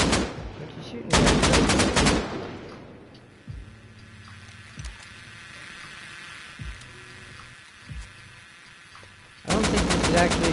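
Loud bursts of rapid automatic gunfire in the survival game Rust, one short volley near the start and another near the end, with sparse single thumps and quiet ambience between.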